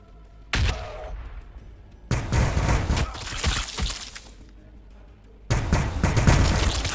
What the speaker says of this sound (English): He's whipping some grenades all around.